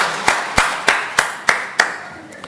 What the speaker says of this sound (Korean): 하나님께 영광의 박수를 보내겠습니다.